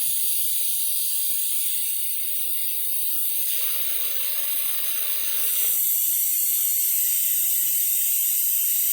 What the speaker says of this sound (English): you can get it as wet as you want it or as dry as you want it, simply by adjusting the water flow to the nozzle